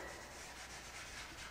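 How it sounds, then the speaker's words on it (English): Close, faint rubbing strokes of sandpaper on a hand-painted wooden sign, in a quick regular back-and-forth rhythm lasting about a second and a half with no talk. "you can see how the sanding lightens it a bit"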